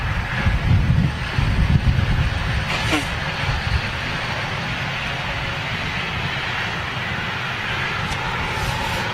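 A pure freighter jet aircraft passes overhead as a broad, steady roar with gusty wind noise on the microphone, lasting throughout the recording at a moderate distance.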